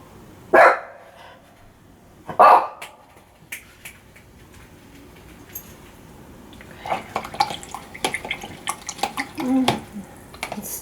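A studio dog gives two sharp, close barks near the start, then quieter scattered sounds and light movement noises follow, with a voice talking faintly in the room.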